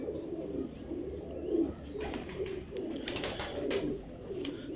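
Soft, low cooing from a Lal Pari pigeon, repeated rounded calls in a steady rhythm, close and moderately loud, with faint chirps and clicks around them.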